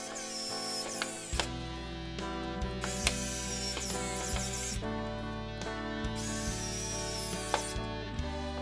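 Screws being tightened into an Eaglemoss Ecto-1 scale model produce soft, close ratcheting clicks and small mechanical turns, repeated in short bursts with no talk.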